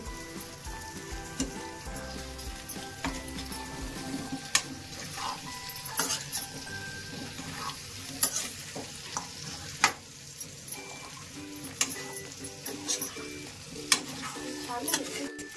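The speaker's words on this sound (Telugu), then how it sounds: "మనం ఏదైతే పెండ్లం అని చెప్పి కట్ చేసి పెట్టుకున్నామో అది తాలింపులో వేసేసి బాగా కలిపేసుకోవడమే." Chopped purple yam is stirred with chicken into a hot tempering. A quiet, continuous sizzle runs under scattered clinks and scrapes of the ladle against the pan, steady and fairly faint throughout.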